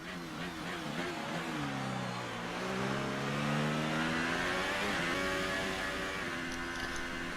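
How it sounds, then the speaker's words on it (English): Engine of a Formula 1 car racing in the F1 2018 video game at the Bahrain Grand Prix, a steady high-pitched whine whose tone sweeps down and then climbs again, loud and continuous with no talk. "here we are, racing on the back of Alonso"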